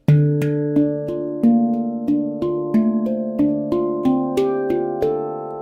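A resonant metal handpan plays a slow melody, each struck note ringing out with a soft attack and long shimmering sustain, steady and close.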